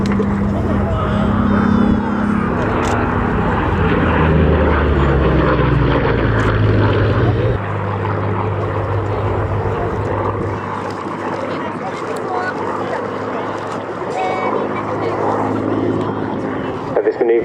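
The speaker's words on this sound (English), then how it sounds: "perfect backdrop for the elliptical wings of this beautiful Mark II Spitfire" A Mark II Spitfire propeller aircraft performs aerobatics at an airshow, its engine droning loudly with pitch sweeps as it maneuvers, then settling into a more distant hum while a commentator talks over it.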